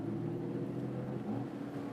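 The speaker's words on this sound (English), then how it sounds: "I pushed down the throttle, wanted to accelerate, but then the automated manual transmission just shifted down" An Aston Martin V12 Vantage S Roadster with a 580 hp V12 and automated manual transmission drones steadily from inside the cabin under throttle, a continuous low engine hum with no voices.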